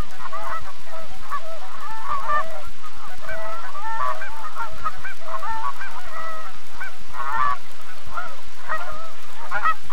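A flock of Canada geese, the giant subspecies on the prairie in autumn, honks continuously with many overlapping calls at moderate distance, a busy chorus filling the whole stretch.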